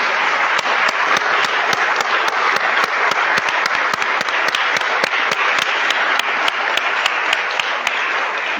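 A church congregation at a Sunday service bursts into sustained applause, dense steady clapping from many hands filling the room at full volume without pause.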